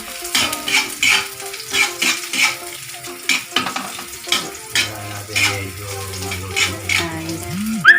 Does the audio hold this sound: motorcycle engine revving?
no